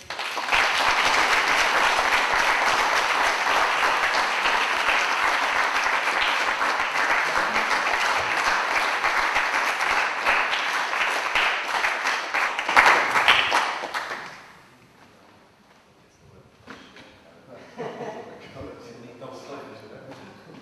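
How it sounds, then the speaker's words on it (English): An audience applauds Nathan at a taekwondo black belt academy grading, with loud sustained clapping for about fourteen seconds that then drops away, leaving scattered claps and a few voices in a quieter room. "So a big round of applause again for Nathan"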